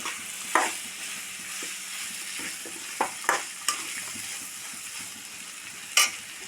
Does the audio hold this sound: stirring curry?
yes